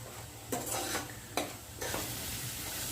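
Ingredients for a chicken pulao fry in a pan with a steady close sizzle, broken by a few sharp stirring scrapes of a spoon against the metal.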